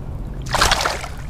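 A smallmouth bass released into creek water makes a short, close splash and slosh that rises out of a steady outdoor water-and-wind background and fades within a fraction of a second.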